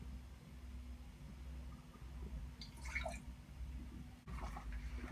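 Water trickles and splashes briefly into a small pot or cup while Turkish coffee is made, a soft close pour over a steady low hum.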